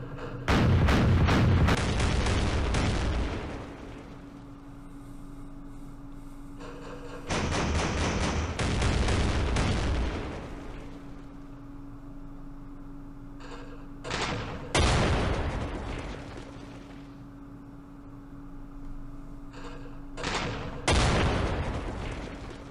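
An anti-aircraft gun fires from a bunker in the war game Campaign Series Middle East: loud clusters of booming, rattling shots come in several separate bursts, with a steady low hum between them.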